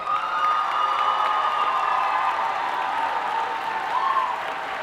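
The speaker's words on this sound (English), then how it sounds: "Let's give another huge round of applause for all of our 400 plus" A large audience applauds at an evening dual enrollment recognition ceremony for more than 400 graduates, a dense, steady wash of clapping with some cheering, close and loud throughout.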